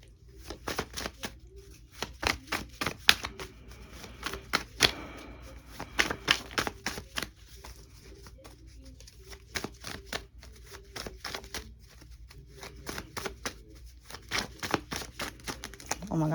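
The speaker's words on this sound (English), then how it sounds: "These are hard to shuffle." Tarot cards are shuffled with repeated sharp clicking slaps in an irregular rhythm. The sound is close but fairly quiet, and someone talks quietly in places.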